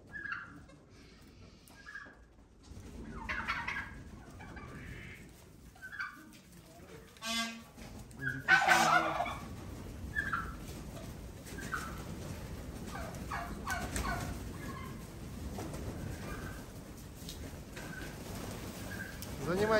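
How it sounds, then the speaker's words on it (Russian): Farm poultry in a poultry house gobble, cluck and coo throughout, with one louder burst of calling midway, while people talk nearby. "Птичник."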